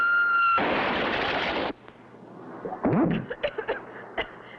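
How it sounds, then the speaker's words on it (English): A cartoon explosion as a projectile strikes a ship's deck, starting with a loud broadband roaring blast that cuts off abruptly, followed by quieter scattered pops, a rising whistle-like tone and rattling debris sounds. "Wow, what an explosion."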